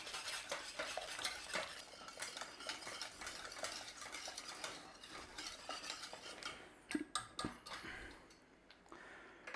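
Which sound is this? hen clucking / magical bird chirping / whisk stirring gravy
whisk stirring gravy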